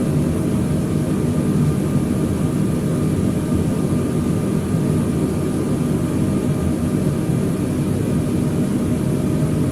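An airplane approaching to land in Microsoft Flight Simulator 2020, heard as a continuous loud engine drone with a low rumble, steady throughout with no talk.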